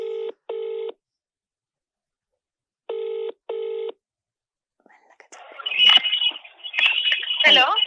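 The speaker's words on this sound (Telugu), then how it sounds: "ఫస్ట్ ఒక అమ్మాయికి కాల్ చేస్తాను." Two pairs of electronic phone ring tones sound in a regular pattern, followed by a pause and then a muffled voice answering on the line.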